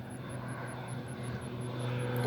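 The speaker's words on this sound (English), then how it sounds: "Sorry, there's a plane." A propeller airplane flies overhead outdoors as a steady, loud droning rumble that builds slightly toward the end, with no talking.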